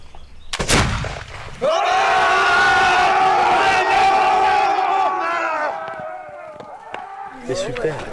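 A staged battle in a film rehearsal for a French Revolution Vendée war scene: a sharp gunshot crack, then a crowd of voices bursting into a sustained battle cry that fades and thins as the shouting dies down.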